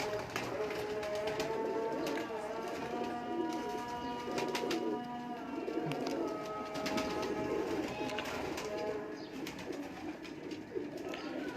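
A purebred female Imamdeen pigeon coos repeatedly amid other birdsong, with faint voices in the background and a steady ambient hum.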